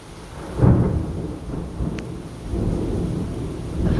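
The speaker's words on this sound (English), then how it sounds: "We're having one heck of a storm, as I'm sure you can hear." Heavy thunderstorm with rolling rumbles of thunder and steady rain, a loud low boom swelling early and another building near the end over a constant wash of rainfall.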